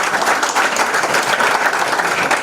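An audience at Burundi's national pitch competition gives a contestant a brief, dense burst of applause. The clapping is loud and close, steady throughout, with no talk over it.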